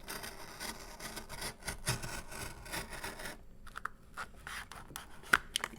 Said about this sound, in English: Best to use a ruler here, so get a straight cut. Let me cut that.